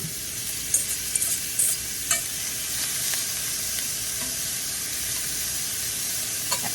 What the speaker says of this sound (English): We're gonna add in this meat and we're gonna fry it up.